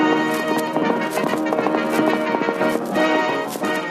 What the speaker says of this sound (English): I've got the Sultan's horse.